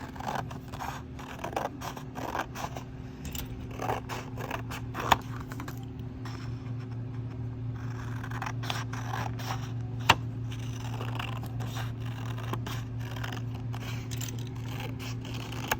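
Scissors cut pieces of paper along drawn lines, giving faint, close snips and rustling scrapes in irregular bursts over a low background hum.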